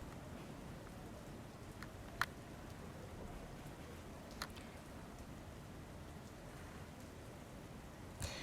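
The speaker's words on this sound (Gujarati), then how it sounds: "વરસાદ અહીં ધીમે ધારે વરસી રહ્યો છે" Gentle rain falls steadily in Dahod, making a soft, faint, continuous patter with only a few brief louder ticks and no talking.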